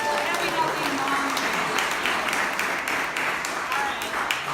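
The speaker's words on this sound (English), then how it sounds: "round of applause for that" An audience at an INDYCAR Nation fan event with a team owner applauds, a steady wash of clapping from the crowd that holds for several seconds, with voices mixed in.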